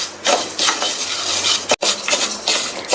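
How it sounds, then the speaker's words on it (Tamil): Moong dal dry-roasts over medium heat in a pan, stirred constantly with a spatula, making a continuous close scraping, rustling rasp with one brief break, and no voices. "எடுத்து வச்ச பாசிப்பருப்பை சேர்த்துட்டு மிதமான தீயில வச்சு வறுத்துக்கங்க"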